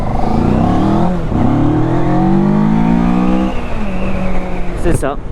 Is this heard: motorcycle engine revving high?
yes